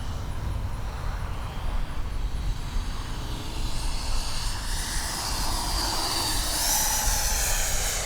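An Arrows RC F-15 model jet with twin 64mm electric ducted fans flies past, its steady whooshing whine holding for the whole stretch and rising slightly toward the end, loud and continuous with no talk.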